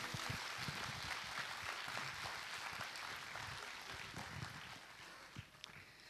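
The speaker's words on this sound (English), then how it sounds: "A round of applause for everybody" Preschool annual day audience clapping, a quiet, distant, continuous patter of many hands that holds evenly throughout without talk.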